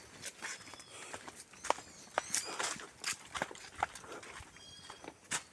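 A working horse that hauls loads in Marinduque walks along, its hooves clip-clopping in an uneven, steady series of sharp knocks, close and moderately loud, with no talking.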